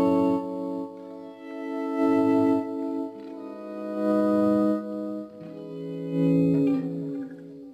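Clean electric guitar chords swell in and fade out through the instrument's volume knob, four slow rising swells with no picking attack, lightly washed in chorus and reverb.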